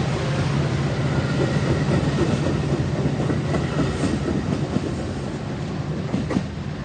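A CSX freight train rolls past at Edgebrook with a continuous loud rumble of wheels and rail cars, faint clicks over joints and a brief high squeal, steady throughout.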